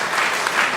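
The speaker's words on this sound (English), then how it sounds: "Give a good round of applause for women of men." Dense, steady applause fills a town hall meeting of a women's societies council in Nigeria, a close, continuous wash of many hands clapping with no break.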